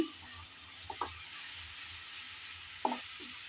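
Belt fish masala being stirred in a frying pan: a steady oily sizzle hisses throughout, with two short scraping stirs of the spoon, one near the start and one near the end, close and moderately quiet.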